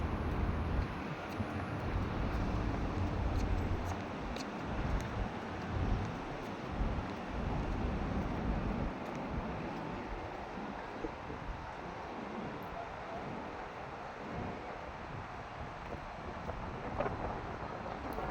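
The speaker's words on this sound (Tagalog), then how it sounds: "Ang lakas ng hangin." Strong wind buffeting the microphone in a steady, heavy low rumble throughout, with no voices.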